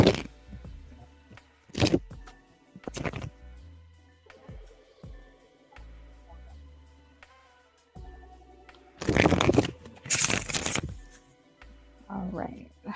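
Tarot cards are shuffled in bursts of crisp riffling and rustling, with quieter tapping and handling in between and a soft voice under some of it.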